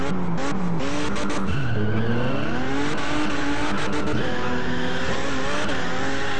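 A Toyota Supra drifting in a driving simulator game, tires squealing loudly in long bending howls over a steady roaring engine, close and continuous without speech.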